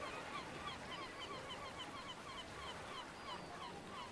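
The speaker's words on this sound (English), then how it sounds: "let me pause all the seagulls" Seagull ambience playing as background atmosphere during a tabletop role-playing session, a steady wash of repeated bird calls and cries over a constant low rumble, moderately quiet and continuous with no talking.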